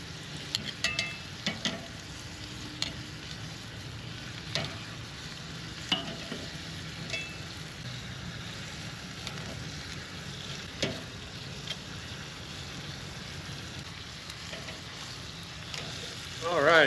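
Bread toasting on a Weber grill gives a quiet, steady sizzle, broken by a few faint clicks and taps and a brief louder rustle near the end.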